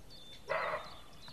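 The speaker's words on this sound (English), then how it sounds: "Sounds like a dog, but that's actually a deer." A deer gives a single short, hoarse bark, dog-like and fairly distant, rising briefly out of quiet outdoor background.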